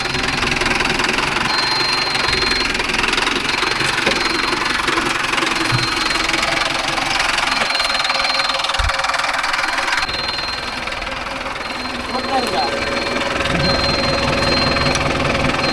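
A Mahindra 605 DI tractor engine runs steadily with a knocking, vibrating idle-like drone, close and loud throughout, dipping briefly before resuming, as it heads out to pull a rotavator on farmland.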